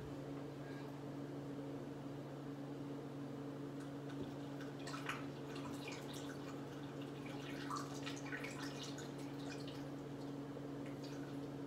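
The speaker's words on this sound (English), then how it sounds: "Let's go ahead and add a little bit more water to it." Water is added to a foamy batch of homebrewed green dragon mead, heard as soft irregular drips and trickles over a steady low electrical hum, faint and close, with no talking.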